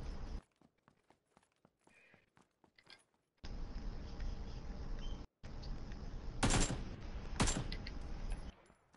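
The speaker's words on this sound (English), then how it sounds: "The shots are coming from behind me." Two sharp, loud gunshots ring out in PUBG, separated by about a second, over a steady background of wind and ambient game noise following a quiet stretch of soft footsteps and clicks.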